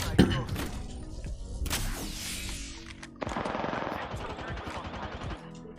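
Rapid automatic gunfire bursts in a battle royale shooter, sharp clattering volleys with a brief pause between them and distant cracks; a low game voice line sits faintly under the shots.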